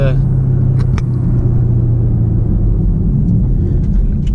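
A 2016 or later Chevrolet Camaro on the move, heard from inside the cabin: a steady, loud low road and engine rumble runs without a break the whole time.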